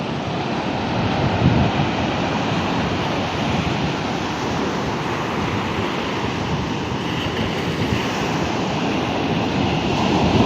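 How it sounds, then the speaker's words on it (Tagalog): Large waves break and churn steadily nearby, a broad rushing roar of surf mixed with wind buffeting the microphone. "Ang lapit ng alon, ah."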